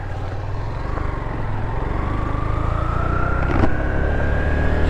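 Yamaha FZS-V3 motorcycle running smoothly after a chain fix, a steady close engine drone with a faint whine slowly rising in pitch throughout.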